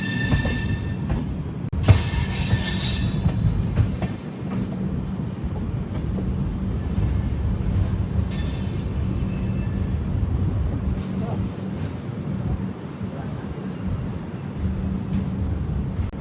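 The Rameshwaram–Bhubaneswar weekly superfast express rolls along with a steady low rumble, punctuated by high squealing wheel bursts around the second and eighth seconds that fade back into the continuous running noise.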